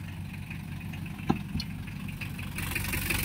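A Mitsubishi 4M40 diesel truck engine idles steadily after starting, a low continuous rumble with a faint click partway through, heard alone at moderate level.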